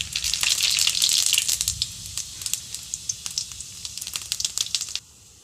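Cumin seeds and dried red chillies crackle and sizzle loudly in hot oil for a mango pickle, a dense frying hiss with sharp pops that thins to scattered crackles before cutting off.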